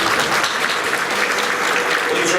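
Sustained applause from an audience at a senior student-athlete luncheon honoring the men's and women's cross country teams, a steady dense clapping wash filling the room at even loudness throughout.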